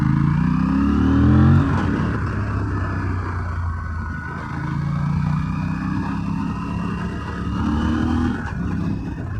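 An Aprilia RS 457 parallel-twin sport motorcycle runs in third gear, its engine droning steadily and loud throughout, with a slight swell near the start and later rising revs.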